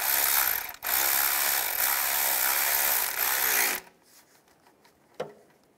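A worm clamp being tightened on a 2008-2016 Chevrolet Cruze engine, heard as a loud continuous mechanical whir with a brief break, then stopping abruptly and leaving faint clicks and one sharp tap.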